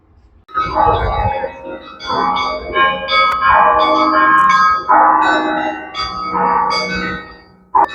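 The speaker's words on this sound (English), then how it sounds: "Here we have the noise from the bells at the cathedral." Several bells of a Moscow cathedral ring together in a busy, clanging peal, loud and sustained, with overlapping tones and no speech.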